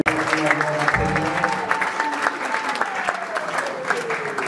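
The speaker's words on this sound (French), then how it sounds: "nous acclamons très très fort pour la gloire de notre Dieu" Congregation at a church wedding applauding loudly and steadily, a dense wash of clapping with scattered cheers throughout, with a voice calling out over the crowd.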